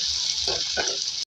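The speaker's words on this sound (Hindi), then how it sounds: "फिर थोड़ा फ्राई करेंगे" Two medium tomatoes frying in a pan for dhaba-style bhindi, giving a steady, close hiss with a couple of soft stirring bursts before the sizzle suddenly cuts out.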